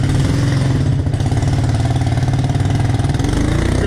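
A four-wheeler engine idles at a steady, throbbing rumble, close and loud, running continuously without any notable revving.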